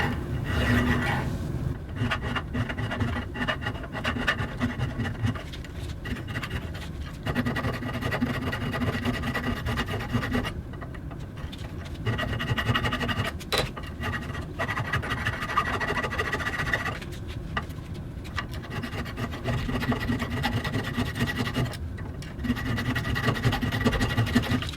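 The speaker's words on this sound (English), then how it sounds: "so we'll just do some hand work with a file here" A metal bender part is hand filed, giving a long run of repeated rasping scrapes in steady strokes with brief pauses between bursts, close and fairly loud.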